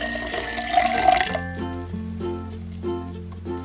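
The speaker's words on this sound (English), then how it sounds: "Now let's put in the vinegar." Vinegar is poured for an elephant toothpaste experiment, giving a brief close splash and trickle of liquid that ends abruptly and is followed by a resonant ringing tone.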